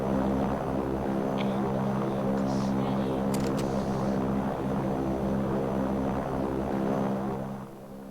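Propeller airplane engine droning during a video game air battle bot match: a continuous loud, harmonic engine hum with steady pitch, close and unbroken, briefly dipping at the end, with no talking.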